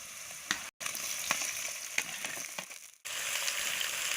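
Meat and potatoes sizzle loudly in a hot pan with fried onions for a village-style Assamese pigeon curry, a steady close crackle broken by stirring scrapes and one brief silent gap.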